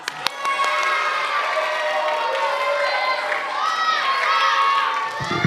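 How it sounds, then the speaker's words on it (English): A lively crowd at a kids' Bible camp closing performance cheers and shouts continuously, with excited high voices and some clapping mixed in, loud and sustained throughout. "Let's give him a round of applause."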